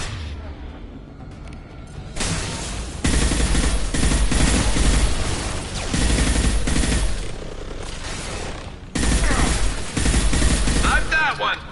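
Sustained turret gunfire in the sci-fi shooter Mass Effect 2: dense, loud automatic fire that roars almost continuously, broken by a few short lulls, with other game sounds mixed in.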